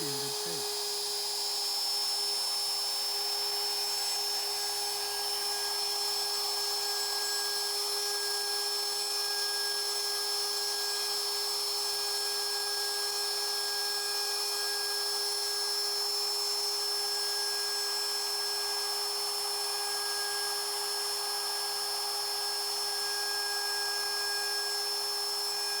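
A router cuts a square mortise freehand in wood, a steady high-pitched motor whine running loud and unbroken from the first moment to the last.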